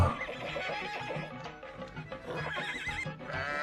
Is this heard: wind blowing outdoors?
no